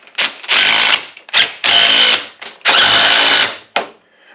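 An impact wrench snugs up bolts on a trailer power jack in several loud, close bursts of whirring hammering, each about half a second to a second long, separated by short pauses.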